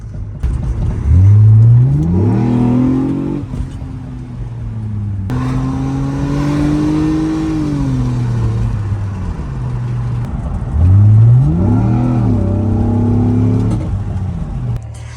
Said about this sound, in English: I'm gonna go ahead and get out onto the road right fast and show you how it's driving